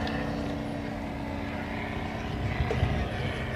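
Radio-controlled scale model Purple Fox aircraft flying at an airshow, a steady buzzing engine drone with faint tonal whine, continuous and moderately distant, no talk.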